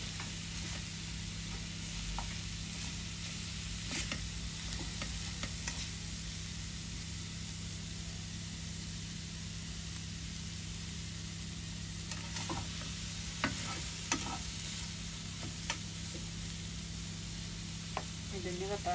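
A wet spice paste fries and is stirred in a pan while making an eggplant mash with yardlong beans; a steady close sizzle runs throughout, with scattered scraping stir strokes.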